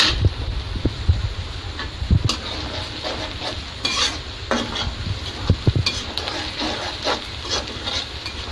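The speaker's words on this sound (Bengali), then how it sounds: "এখানে পেঁয়াজ হচ্ছে, লালচে লালচে হোক" Onions fry and sizzle in a pan beside seasoned rohu fish roe, with a steady hiss and repeated stirring scrapes and clinks of a utensil on metal, close and continuous, with no talking.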